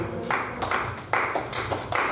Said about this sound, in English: Praise, clap your hands and celebrate God.